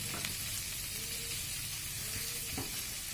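Curry leaves frying in a pan with chicken pieces and capsicum for a Bengali chicken fry make a loud, dense, continuous sizzle up close, with faint stirring scrapes beneath it.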